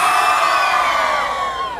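A live concert audience roars and cheers for a performer, a loud, dense wall of shouting voices that tapers slightly toward the end.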